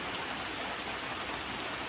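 Steady rain hisses across the whole stretch, a dense, even wash of drops with no pauses and no voices.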